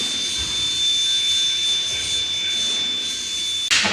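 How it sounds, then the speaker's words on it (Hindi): Molten metal pouring on a factory floor: a steady, loud broadband roar with a hiss, like a blast of hot air from a furnace, holding constant for about four seconds before a sharp clatter right at the end. "देखो इस तरह से मेटल पोरिंग होती है।"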